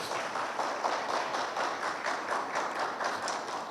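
Congregation at a Hindi-language Christian church service claps together in praise, a steady, moderately distant patter of many hands that continues evenly for several seconds.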